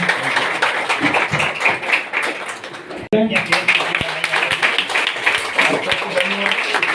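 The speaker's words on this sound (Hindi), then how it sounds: "तालियां हो जाए।" Audience applause at a rural handicraft design programme, a dense continuous patter of clapping from a crowd with voices talking over it, briefly cut off midway before resuming.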